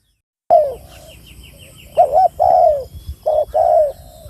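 Spotted dove coos near the call site during decoy dove hunting in rural Udon Thani, Thailand, a short series of soft, throaty rolling coos in uneven bursts, loud and close over faint background hiss.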